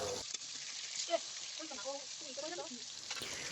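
Pangas fish pieces frying in hot oil in a pan, a steady close sizzle running throughout with a few brief soft clinks and a faint trace of voice.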